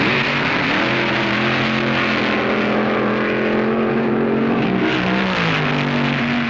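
Loud engine roar from 1966 NHRA Nationals dragsters launching and racing down the strip, a sustained rasping drone with shifting pitch, heard through old broadcast audio.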